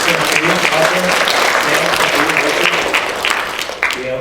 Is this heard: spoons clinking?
no